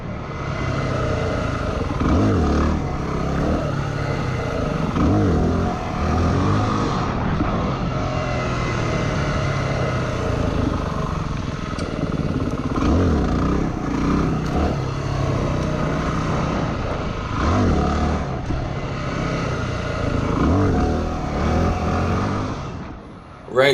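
A WR250R dirt bike is ridden while popping wheelies, its engine droning and revving continuously for a long stretch, loud and close, with surges in throttle.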